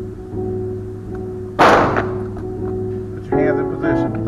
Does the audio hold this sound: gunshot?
yes